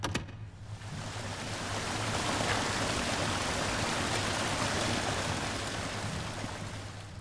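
Water rushes and fills a chamber in the Resident Evil 0 HD Remaster water treatment plant, a dense, steady roar that swells slightly and holds without voices.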